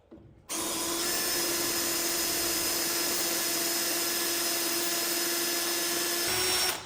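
A power drill starts abruptly and runs at a steady, loud, high-pitched whine for several seconds close by, then winds down.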